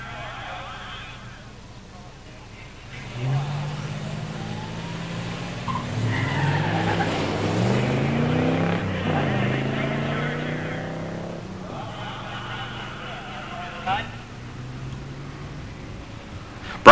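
An '86 Buick Grand National and an '80 Camaro Z28 drag racing at a pure stock drag event, engines revving up and roaring off the line with rising tones before fading, under an announcer's voice.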